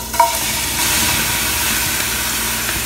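Ground, pre-blended seasonings sizzle steadily in cottonseed oil in a pan for a bean dish, a continuous close frying hiss with a brief clink near the start and no talking.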